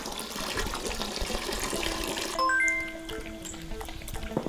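Water fills a bowl in the Animal Shelter 2 video game, a steady running-water rush that turns into a rising tonal pour about halfway through, with no voices.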